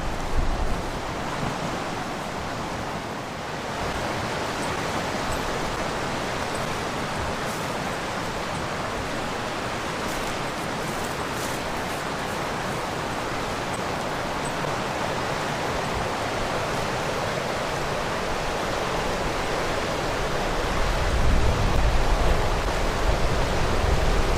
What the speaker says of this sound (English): All right, we're going to walk up the river.